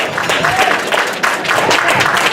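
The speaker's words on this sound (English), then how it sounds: "give a round of applause" An audience at a Brooklyn event claps together in a dense, even burst of applause lasting a couple of seconds, with a few voices mixed in.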